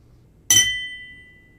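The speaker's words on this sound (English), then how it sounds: "So recording ringing glass gives us this type of sound" A single sharp tap on a ringing glass, one bright clink that sustains into a clear, high tone and slowly decays in a quiet space.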